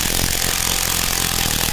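A loud, continuous mechanical rattle from an impact wrench working bolts loose on a rough-running Honda Supra Fit New motorcycle engine during teardown, steady hammering with no pauses over nearly two seconds.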